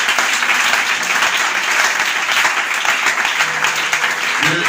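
Church congregation applauding: dense, loud, continuous clapping from many hands filling the room, with a few voices faintly mixed into the applause.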